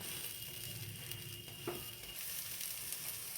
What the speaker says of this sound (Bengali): যদিও আমি আঁচটা খুবই কমিয়ে দিয়েছি, যাতে ভালো করে ভাজা হয়।